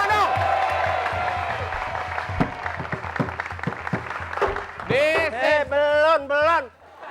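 An audience at a comedy show breaks into applause and cheering, with continuous clapping over talk and strong music tones toward the end.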